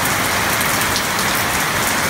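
Heavy midday rain in Nepal pours down in a dense, unbroken hiss, loud and close, with no voices or other sounds over it.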